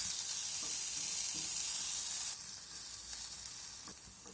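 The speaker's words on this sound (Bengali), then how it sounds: "সব কিছুর সঙ্গে পেঁয়াজটাকেও ভেজে নিতে হবে সুন্দর করে।" Chopped onion fries in a pan with boiled potatoes and spices, giving a steady loud sizzle that briefly dips and then carries on with faint stirring scrapes.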